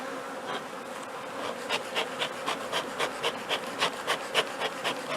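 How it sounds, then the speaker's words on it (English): Dense, close buzzing of many honeybees in an opened hive smoked down during an inspection, with a steady hum that pulses in quick regular swells. "This whole bottom is packed with bees."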